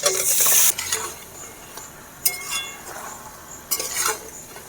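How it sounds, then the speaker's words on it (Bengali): Marinated country chicken hits hot spiced oil in a pot, followed by a few sharp clinks and scrapes of a spoon stirring amid a soft sizzle. "এবারে ম্যারিনেট করা চিকেনটা দিয়ে দেবো।"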